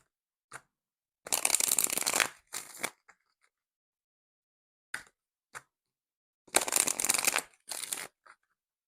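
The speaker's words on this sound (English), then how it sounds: "I'm just going to shuffle these cards for clarity" Tarot cards being shuffled in several quick riffling bursts with short pauses between, close and crisp, plus a few light taps.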